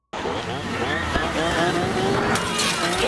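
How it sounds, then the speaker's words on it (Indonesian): A car arrives and drives off with rising engine noise and tire squeal, mixed with a film soundtrack, heard loud and continuous throughout, from the 2013 horror film Texas Chainsaw. "Tidak lama datang sebuah mobil"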